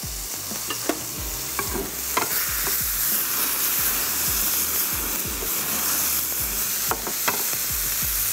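Oil sizzles steadily in a hot pan while cooking tomato butter spaghetti, a dense continuous frying hiss with scattered louder crackles and pops, close and fairly loud with no talking.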